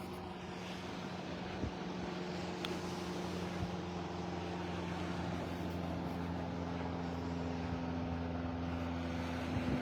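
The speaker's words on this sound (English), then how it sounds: "Sound of an airplane overhead, reminding us that we're not alone out here." A propeller airplane drones steadily overhead along a North Naples, Florida beach, a continuous low hum with faint surf and breeze beneath it, no talking.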